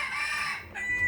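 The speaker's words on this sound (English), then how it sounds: "if these chickens would stop crowing when I'm doing a video" Rooster crowing outdoors near a yard of chickens, one drawn-out strained crow close by, ending with a shorter rising call and a faint cluck.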